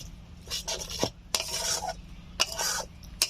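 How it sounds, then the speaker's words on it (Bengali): Egg masala curry with curd and a little sugar being stirred in a pan over low heat, with spoon scrapes and soft clinks in short bursts alongside a faint sizzle. "1 মিনিট মতো এরকম ভাবে নেড়ে নেব"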